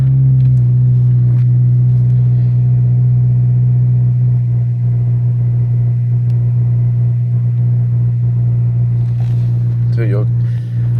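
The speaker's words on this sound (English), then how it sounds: "this is going to be a cold start, so it is going to idle a little bit high" A 2006 Honda Civic Si fitted with a J35 throttle body idles slightly high after a cold start, giving a steady, loud, droning engine hum while someone talks over it.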